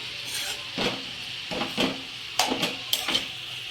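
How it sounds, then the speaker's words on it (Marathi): Carrot halwa being stirred and mixed in ghee in a pan, a spoon scraping and turning it in several short sweeps with soft sizzling underneath, close by and with no one speaking. "मिक्स करूया आपण छान याला"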